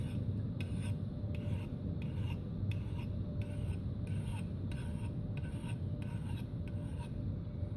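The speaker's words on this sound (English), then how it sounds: "according to the book by Morris Kohansky, this is a great way to sharpen your axe in the bush" An axe blade is sharpened with a hand file outdoors in the bush, its steady rasping strokes repeating about every half second over a constant low background rumble.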